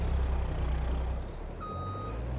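A truck's Jake brake in the Farming Simulator 22 video game gives a loud, steady, low engine rumble that holds throughout, with a thin high tone and a short beep layered on top.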